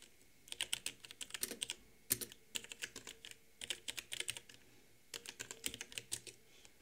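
Code being typed on a computer keyboard, quick close clicking keystrokes in uneven bursts with short pauses between runs, no speech.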